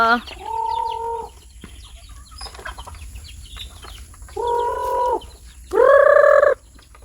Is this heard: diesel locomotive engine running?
no